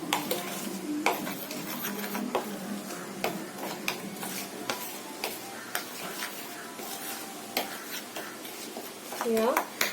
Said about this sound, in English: And I'm going to mix it well.